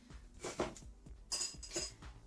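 A nail polish bottle shaken to remix separated pigment, giving a series of quiet clinking rattles in short bursts, several shakes close by with no talking.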